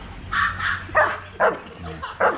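Trained K9 dog at a training club barking nearby: five or six sharp, loud barks in an irregular rhythm, set against a low background hum.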